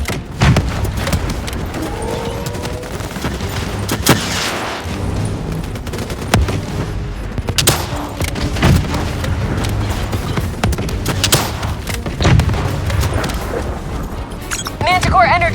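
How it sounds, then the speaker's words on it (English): Javelin missile explosions and gunfire fill a Call of Duty Black Ops 3 battle, sharp repeated booms and bursts scattered over roughly fifteen seconds, mixed with in-game voices and combat noise. "Javelin missiles incoming!"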